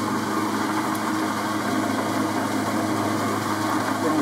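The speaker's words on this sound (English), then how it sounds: "So what I've done is put this fly cutter in, which will do it in one pass." Fly cutter milling a parting tool on a lathe, a steady continuous mechanical drone with a constant hum and whirring texture throughout, even and unbroken, no voices.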